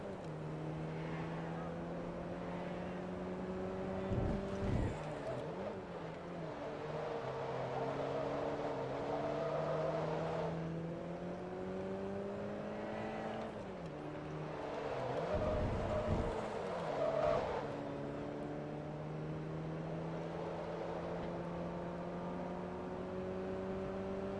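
A car engine in the racing game Forza Motorsport 2, during a Class D Grand Prix at Tsukuba, drones steadily. Its pitch climbs and drops in repeated sweeps, with sharp shift breaks near five and sixteen seconds.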